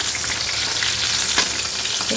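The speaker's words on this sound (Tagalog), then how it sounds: "Pritong isda." Steady crackling sizzle of fish frying in hot oil, continuous and close, with a few brighter pops rising above the constant hiss.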